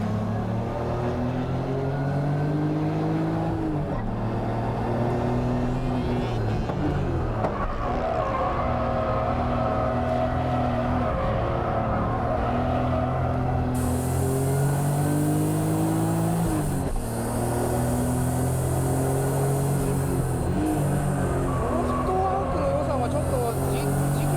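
A stripped race car weighing about 1,600 kilos, with a near-stock RB engine, drives on a track with a loud, continuous engine note that rises and falls through gear changes and revs, under commentary.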